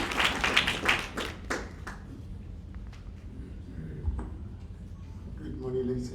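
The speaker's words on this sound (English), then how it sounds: "give a warm round of applause to Mr. James Moloi." An audience at a Two Oceans Marathon elite athlete press conference claps: a burst of brisk applause that quickly thins to scattered, fading claps in a quiet room.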